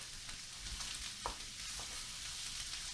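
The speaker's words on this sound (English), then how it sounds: "We're just going to saute this now for 5-6 minutes till it gets a little translucent" Garlic sautéing in a pan for a tomato, rice and beef casserole, giving a steady soft sizzle with a few light stirring clinks, close and fairly quiet throughout.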